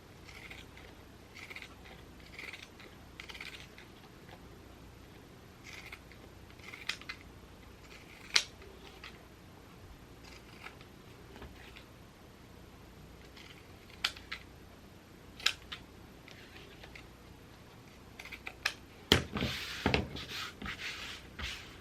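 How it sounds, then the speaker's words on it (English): Zigzag scissors trimming fabric for a backpack: a few quiet, scattered snips and clicks over a soft room hiss, with a denser cluster of cuts near the end and no talking. "I'm going to use my zigzag scissors, and I'm just going to trim."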